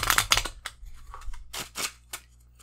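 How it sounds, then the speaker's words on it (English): A deck of playing cards is shuffled up close in a series of quick crisp riffling bursts and flutters, several separate runs with short gaps between; no talking. "I'm going to shuffle this deck"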